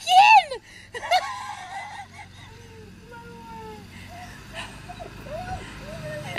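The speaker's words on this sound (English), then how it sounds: "I hear a dog whimpering too." A dog whimpering in thin, high whines, several short rising and falling cries drifting in and out at a moderate distance over a low background murmur.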